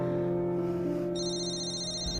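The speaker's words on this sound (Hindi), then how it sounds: "फोन आ रहा है" A phone ringtone starts partway through, a steady high electronic tone repeating over a constant low hum.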